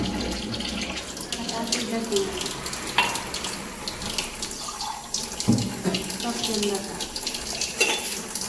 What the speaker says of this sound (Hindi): हल्की सी टोटी खोल दीजिए पानी का बाव बना रहे